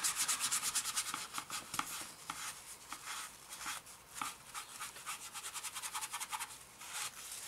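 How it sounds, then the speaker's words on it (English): Steady rhythmic scrubbing on decals of a Fujimi 1/48 Mitsubishi A6M2 scale model, a close, quick back-and-forth brushing that runs continuously with brief pauses and alone without talk. "This actually takes some scrubbing work to do."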